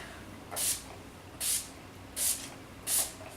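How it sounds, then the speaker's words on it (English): Four short bursts of makeup setting spray misted onto the face, evenly spaced about once a second, each a close, crisp hiss with quiet pauses between. "I'm gonna go spray this and then pick a shade of lipstick."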